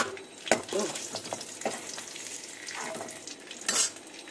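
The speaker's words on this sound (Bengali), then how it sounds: "এই যে তেজপাতা আর শুকনো লঙ্কা দিয়ে দিলাম ফোড়নে" Bay leaf and dried chilli sizzle as they temper in hot oil in a kadai: a close crackling hiss with sharp stirring clinks and a louder burst near the end.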